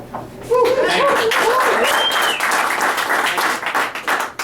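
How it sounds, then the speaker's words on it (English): A comedy-club audience at an ale house claps at a show, steady applause that builds for several seconds with scattered voices and a few laughs mixed in. "You don't have to clap because you felt bad"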